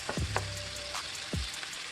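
Seasoned meat frying in a pan for Filipino pancit bihon, a steady close sizzle running under a few soft clinks and scrapes of a utensil against the pan.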